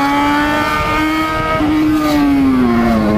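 A motorcycle engine holds a steady, loud, close idle-to-low rev, its tone dipping briefly and then rising slightly, alone without voices.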